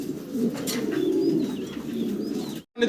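Fancy pigeons coo steadily at a pigeon farm, a dense chorus of low rolling calls close by, ending with a short break.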